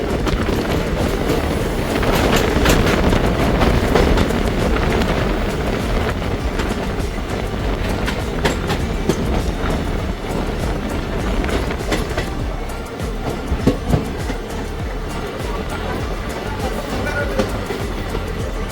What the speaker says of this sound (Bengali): আমাদের ট্রেন নবদ্বীপ ঢুকছে।